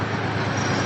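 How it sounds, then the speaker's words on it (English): Metro-North commuter train bound for New York City rolling past outdoors, a steady, moderately loud broadband rumble held evenly through the brief moment with no speech. "That's the Metro North to New York City."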